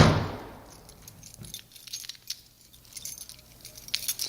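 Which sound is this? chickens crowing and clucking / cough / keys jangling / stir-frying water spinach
keys jangling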